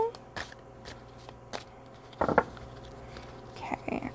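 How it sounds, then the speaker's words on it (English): Everyday Witch Oracle cards shuffled by hand, soft papery riffles and taps in irregular bursts, quiet and close, with a louder flurry partway through. "Forgive my clumsy shuffling."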